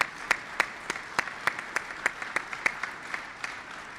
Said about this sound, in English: let's give the senator a big round of applause